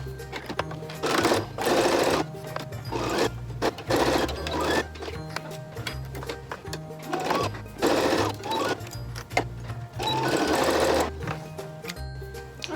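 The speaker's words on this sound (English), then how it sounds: "I'm gonna repeat that same 3/8 seam on my brim pieces" A sewing machine runs in repeated bursts, stitching a 3/8 seam along the brim pieces of a reversible bucket hat, each run a steady rapid whir with short pauses between and no talking.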